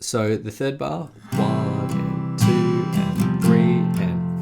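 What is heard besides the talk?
None of the usual background noises is heard.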